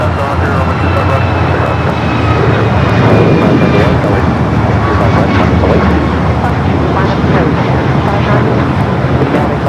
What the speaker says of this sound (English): The United A321 Neo in the 100-year livery, spending some time out there at the beach, now making its way over to either Terminal 7 or 8